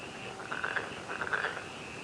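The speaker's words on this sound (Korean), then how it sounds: "논에서 들리는 밤에 그 농촌의 소리. 이게 참개구리예요." Black-spotted pond frogs croaking in rice paddies at night, a soft chorus of repeated trilling calls swelling twice over a steady background hiss.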